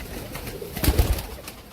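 Amritsari pigeons coo close by in a loft, with a short cluster of low, throaty pulses in the middle of the moment over faint background noise.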